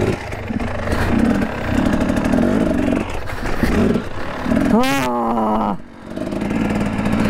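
A Husqvarna TX300 dirt bike engine revs and drones loudly up close, with a sharp rising rev burst near the end and a brief exclamation early on.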